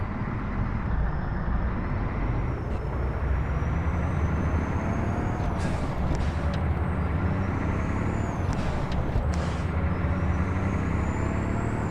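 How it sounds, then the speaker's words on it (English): Squeaky air brakes on a Crete Carrier semi truck in American Truck Simulator hiss and squeal in short bursts over a constant loud engine drone, with thin high whines drifting above the rumble. "I love the squeaky sound of the air brakes in this truck."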